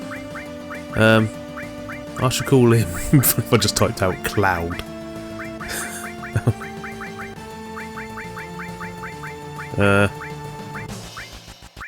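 Geese honking outside in quick repeated calls, heard beneath a voice speaking and exclaiming over a steady background hum.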